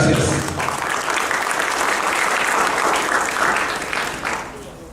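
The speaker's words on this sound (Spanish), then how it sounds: "Por favor, recibámoslo con un fuerte aplauso." An audience at a lecture on financial accounting breaks into steady, dense applause that stays full for several seconds, then tapers off near the end.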